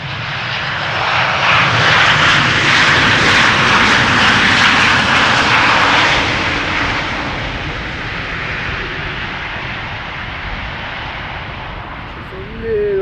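A Boeing 737 arriving from Munich lands with a loud, roaring thrust reverser surge that builds, holds for several seconds, then fades into a lower rumble.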